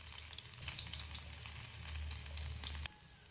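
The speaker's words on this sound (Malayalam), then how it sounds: "ഓയിൽ ചൂടായി വരുമ്പോൾ ഇതിലേക്ക് പാവക്ക ചേർത്ത് കൊടുക്കാം" Steady, close sizzling and crackling of food frying in hot oil, continuous with no voices, cutting off sharply near the end.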